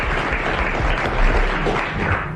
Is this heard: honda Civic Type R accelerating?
no